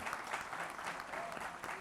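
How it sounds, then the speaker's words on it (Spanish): An audience at a political discussion forum gives brief, soft, continuous applause that is somewhat distant. "Quiero pedirle un aplauso muy fuerte"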